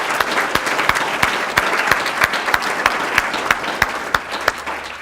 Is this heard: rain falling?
no